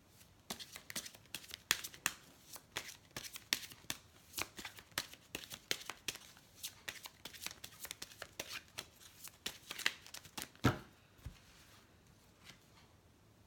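Tarot cards shuffled by hand for a love reading, a quick run of crisp riffling snaps and flutters repeating steadily and close up, with faint breathy pauses between bursts and no speech.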